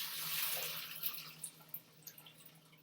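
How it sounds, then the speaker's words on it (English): Water from a pan pours into a colander set in a kitchen sink, a steady rushing splash that fades into a few scattered drips, faint and alone with no talk. "I'm going to take this over to my sink and pour."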